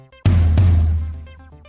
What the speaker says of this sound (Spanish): Y este es el tom-tom de pie.